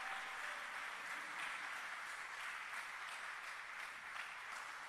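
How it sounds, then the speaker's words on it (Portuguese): A church congregation claps continuously in a steady, dense wash of applause that stays fairly distant and even throughout, with no talking over it. "Aplauda o Senhor bem forte."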